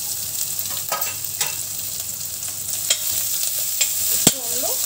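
Garlic, green chilli and ginger fry in hot oil with a steady close sizzle, while a spoon scrapes and stirs the pan now and then in short sharp clicks.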